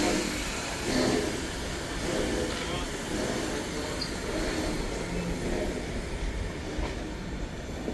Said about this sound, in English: This locomotive has detached and is now coming around the train.